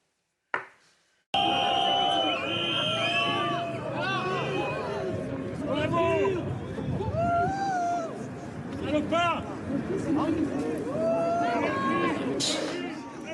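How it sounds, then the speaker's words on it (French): A crowd at a memorial boos and shouts insults at an LFI municipal candidate, a dense, loud, continuous mass of jeering voices and overlapping shouts that rises after a brief pause and carries on throughout. "a été hué par une partie de la foule qui l'a qualifié d'antisémite"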